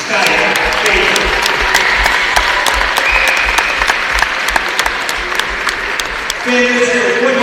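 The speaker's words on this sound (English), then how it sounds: "One more round of applause for our wonderful seniors." A large crowd at a Whitman vs Puget Sound game claps steadily and loudly throughout, a dense sustained applause for seniors with some talk mixed in.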